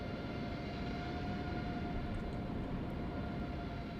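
A Lufthansa airliner sits at the gate at Copenhagen in a flight simulator, its engines giving a steady, loud, broad rumble with a thin tonal whine running throughout, no voices over it.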